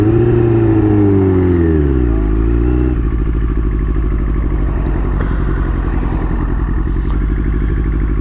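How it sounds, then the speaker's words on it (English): A 2000 Yamaha R6 sport bike with a quickshifter revs loud and close, pitch sweeping through rapid gear changes before settling into a steady buzzing drone, with crackling exhaust pops between shifts. "It's worth it just for the pops between gear changes."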